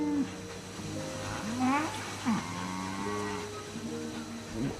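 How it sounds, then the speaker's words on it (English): Hungry cows on a bushfire-hit farm give several drawn-out moos, some near and some farther off, over a faint background hum. "you've got hungry cows right now."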